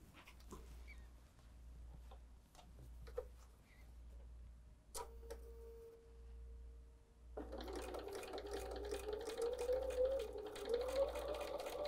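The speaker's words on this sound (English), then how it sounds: "And let's go to the sewing machine." A sewing machine stitches a quilt block seam for a leaf or bear paw block, starting with a soft rhythmic whir and brief stops, then running steadily louder and faster for the last few seconds.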